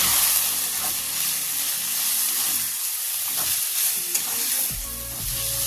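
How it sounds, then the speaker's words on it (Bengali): Chilli, cumin and coriander powder spices fry in a pan for mushroom curry, hissing in a loud, continuous sizzle with occasional scraping stirs, close up and without speech. "এই সবগুলো ভালো করে মিশিয়ে ভেজে নেবো"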